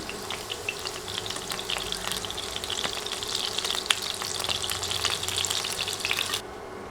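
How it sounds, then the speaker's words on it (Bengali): Potatoes sizzle steadily in hot oil for a tilapia fish dish, a dense, even crackle with scattered sharper pops, holding at moderate loudness before dropping away near the end. "এক দেড় মিনিট আলু ভেজে উঠিয়ে নেব ভাজতে ভাজতে যাতে আলুর গায়ে দাগ না লেগে যায়"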